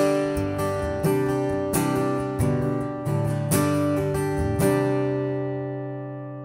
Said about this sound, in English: So that's the sound of the piezo.